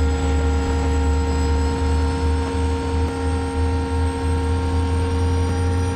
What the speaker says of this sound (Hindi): इस प्यारी आवाज को सुनो गाइस, इंजन का साउंड और हमारे कोचेस का साउंड